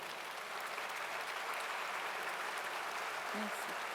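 Sustained applause from an audience at a formal event with Côte d'Ivoire's First Lady Dominique Ouattara, a steady dense patter of clapping held throughout.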